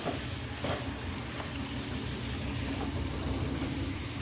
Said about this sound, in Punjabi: ਮਸਾਲੇ ਦੇ ਵਿੱਚ ਆਪਾਂ ਹੁਣ ਆਲੂ ਪਾ ਦੇਵਾਂਗੇ ਆਲੂ ਪਾ ਕੇ ਮਸਾਲਾ ਚੰਗੀ ਤਰ੍ਹਾਂ ਭੁੰਨ ਜੇਗਾ